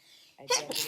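A single short sneeze bursts out after a moment of quiet room tone in an office or classroom setting, near and fairly loud.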